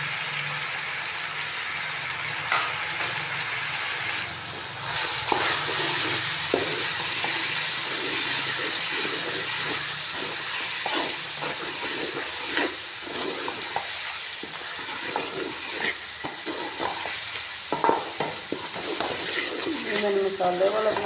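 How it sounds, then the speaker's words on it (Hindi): Ginger garlic paste and spices frying in a pan for chicken masala, a loud steady sizzle with repeated stirring scrapes and occasional spits, and a voice talking over it partway through. "ये अदरक लहसुन का पेस्ट भून गया, ये मसाले इसके अंदर डाल दूँगी"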